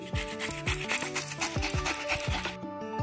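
Ash gourd rubbed against the fine side of a hand grater while making bori, with quick rhythmic scraping strokes repeating steadily for a few seconds before stopping.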